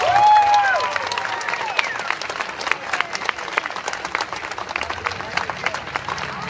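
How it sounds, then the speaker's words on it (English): An outdoor audience at a summer band festival concert applauds and cheers for young performers, dense clapping and scattered whoops starting loud then settling into steady, slightly fading applause close by. "Can we just have one more round of applause just for these kids?"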